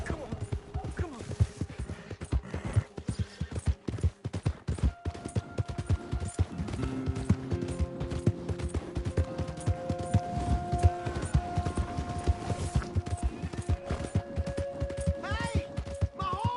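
Horse hooves in Red Dead Redemption 2, a quick clip-clop of steady footfalls throughout, joined by game music tones and brief voices partway through.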